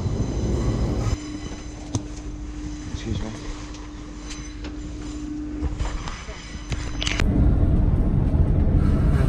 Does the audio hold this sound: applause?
no